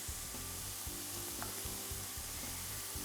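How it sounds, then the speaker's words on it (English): Onions sizzling in a hot pan, a dense, steady hiss of frying with a low hum underneath, close and continuous with no talking. "As soon as you hear the sizzle, you'll start to get the aroma of the onions."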